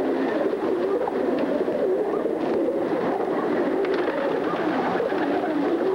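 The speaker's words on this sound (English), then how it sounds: "These baby pigeons are called squabs." Soft, low cooing of baby pigeons murmurs continuously, several birds close by, with gentle rustling underneath and no talking.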